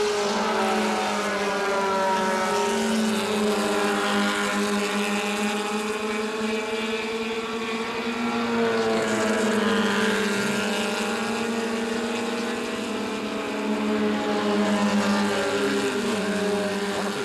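H Production race cars at Road Atlanta in the 1980 Runoffs race by with loud, sustained engine howls whose pitch climbs and falls as they pass, several engines overlapping continuously.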